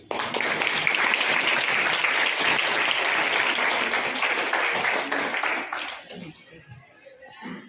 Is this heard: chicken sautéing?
no